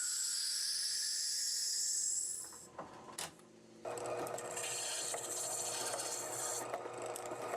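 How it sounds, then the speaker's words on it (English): Sandpaper rasps steadily against a celluloid fountain pen barrel, close and fairly quiet, with a brief pause and a few light knocks before the rubbing resumes. "the process of sanding commences to refine its surface"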